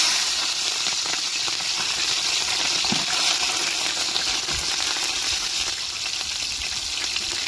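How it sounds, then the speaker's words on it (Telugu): Oil heats in a pan before mutton is added, giving a steady close sizzle and hiss that runs without a break, with a few faint knocks and pops underneath and no voices. "మటన్ కోసం ముందుగా ఆయిల్ వేసుకుందాం"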